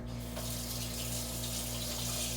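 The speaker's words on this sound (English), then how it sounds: "wash off this fork real quick." A kitchen tap runs steadily into a sink while a fork is rinsed under it, a loud continuous gush with no talking, made during keto breakfast sandwich cooking.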